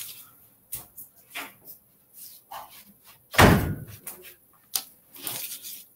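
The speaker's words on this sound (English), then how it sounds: "Hold on, I'm just going to close the door." A single loud door slam thuds midway, surrounded by quiet scattered bumps and faint movement noises.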